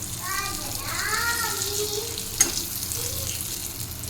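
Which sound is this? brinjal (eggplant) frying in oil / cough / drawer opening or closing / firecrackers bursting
brinjal (eggplant) frying in oil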